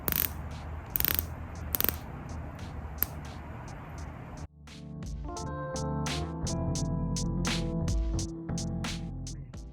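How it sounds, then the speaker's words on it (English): A steel 60-click unidirectional bezel on a Tudor Black Bay 54 dive watch, aluminum insert, turned in quick runs of crisp, tiny ratcheting clicks, close and isolated, following a few earlier handling taps. "The bezel is a 60-click unidirectional stainless steel bezel with an aluminum insert, and it provides a very pleasing bezel action."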